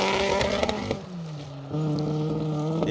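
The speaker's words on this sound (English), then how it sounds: "car is struggling there with a misfire" A Ford Escort Mk1 rally car on a stage of the Plains Rally in the Welsh Rally Championship, its engine droning unevenly with a misfire, pitch sagging and then steadying, close and loud.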